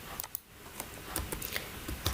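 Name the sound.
typing a shortcut on a computer keyboard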